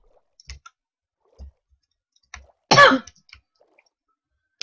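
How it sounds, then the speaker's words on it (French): One short, rough cough sounds nearby in an otherwise quiet room, with a few faint clicks and taps around it. "je tousse pas mal"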